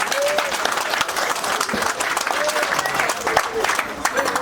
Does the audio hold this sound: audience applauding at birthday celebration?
yes